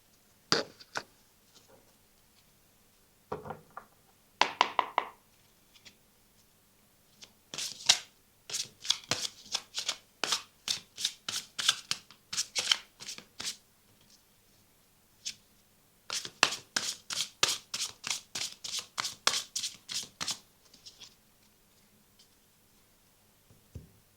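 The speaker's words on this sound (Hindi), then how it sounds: "let's shuffle your cards" Tarot cards being shuffled at close range in bursts of quick riffling flicks, with short pauses between runs and no voice over them.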